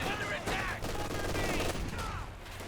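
Light machine gun fire from Grenadier squads in the strategy game Company of Heroes 2, a dense continuous clatter of overlapping bursts with a commentator's voice running over it.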